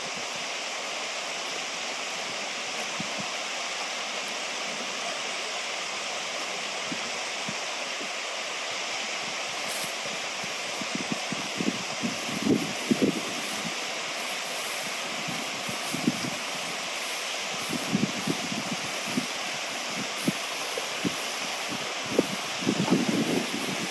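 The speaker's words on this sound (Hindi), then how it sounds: "ठंडी ठंडी हवाएं तो चल रही है, अभी मज़ा आ रहा है अभी पानी के पास" A wild riverside campsite in cloudy weather carries a steady rush of flowing water mixed with cool wind. The sound is a dense, continuous wash, and occasional soft gusts and bumps come through close to the microphone. No one speaks.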